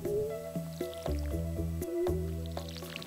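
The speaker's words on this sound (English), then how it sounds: "You gotta water the coffee plants." Coffee plants are watered in the Stardew Valley video game, a series of soft, squishy splash and drip effects in an uneven rhythm over a steady, tonal music bed.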